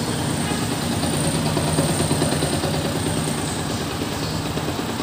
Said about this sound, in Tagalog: Ayos na, napakatahimik na ng motor.